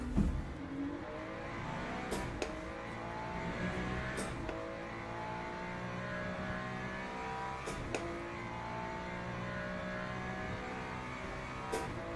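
A Ferrari race car in the Le Mans Ultimate racing game, its engine droning steadily near and loud, with rising and falling revs and several sharp gear-shift cuts spaced through the run, no voices.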